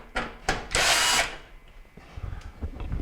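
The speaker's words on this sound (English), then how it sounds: "So I'm going to remove that screw." A power driver buzzes in short bursts then one longer whir while backing a screw out of a Kenmore stove temperature sensor, followed by faint clicks and handling noises close by.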